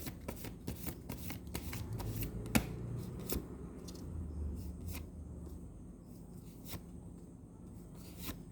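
Tarot cards being shuffled close up, a steady run of soft riffling and sliding with a few sharper snaps, no voices.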